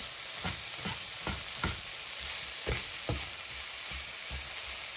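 Eggplant and zucchini sizzle steadily in a hot frying pan, a constant hiss broken by occasional soft stirring scrapes and taps.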